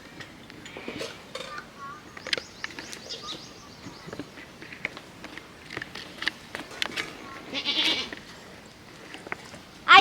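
Goats bleat faintly in a few short calls amid outdoor cooking clatter of pots and utensils, with people talking intermittently.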